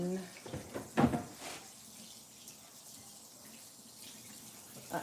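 Something being rinsed under a running kitchen tap while canning ground turkey, a soft steady rush of water with splashy bursts near the start and end, faint overall.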